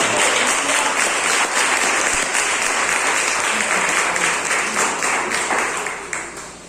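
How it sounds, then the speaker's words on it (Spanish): A church congregation applauds during a Spanish-language Christian sermon: dense, steady clapping that fills the whole stretch and tapers slightly at the end. "Quiero que den un aplauso."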